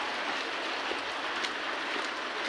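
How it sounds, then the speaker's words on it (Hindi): Heavy rain falls outdoors in a Himachal Pradesh village, a steady, fairly faint hiss of drops with no voices. "अब ना बहुत तेज़ बारिश होने लगी है यार"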